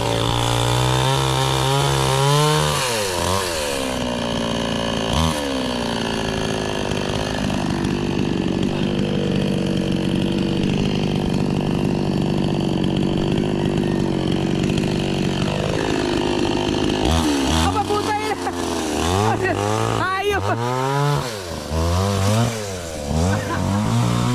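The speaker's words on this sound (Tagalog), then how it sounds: "nagluloko yung bearing ng chainsaw, baka pumilantik" A chainsaw with a faulty bearing runs loudly and continuously, revving up and down, close by, with a sharp sputtering rise near the end.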